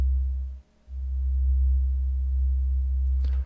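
Deep, pure bass synthesizer tone from the DUBturbo VST plugin, a steady low sine-like hum with a brief dropout near the start, then held until an abrupt stop, with no talking.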